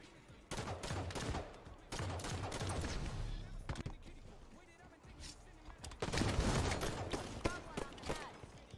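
Gunfire in a Halo 5 competitive match, repeated rapid bursts of automatic fire, loud and close, broken by short pauses, with a player's voice talking over parts of it.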